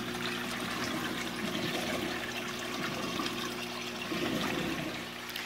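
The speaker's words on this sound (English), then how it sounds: "As you can see, it's flowing a ton of water." A 350-gallon aquarium's overflow box sends a heavy, steady rush of water down hoses into the sump, a continuous close splashing and gurgling flow with no talk.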